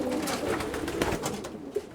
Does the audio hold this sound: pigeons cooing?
yes